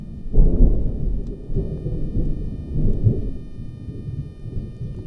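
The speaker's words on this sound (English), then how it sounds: "hopefully this rain goes past and we get some sun" Heavy rain drums steadily on a roof tent while thunder rumbles in low, rolling swells, loud and close throughout with no voices.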